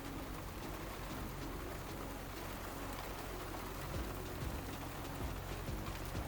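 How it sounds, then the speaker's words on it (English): Steady rain falls during an off-road drive in the UAE, a constant broadband hiss with soft patter that stays even in level throughout, with no talking. "We are here in UAE and it's raining."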